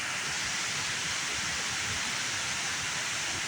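A waterfall flows steadily at close range, a dense, unbroken roar of rushing water with no other sounds.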